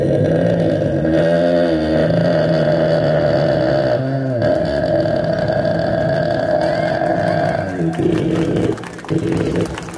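A scooter engine turns over and catches, its pitch rising and sagging in uneven surges, then runs loudly for several seconds before cutting out and sputtering near the end.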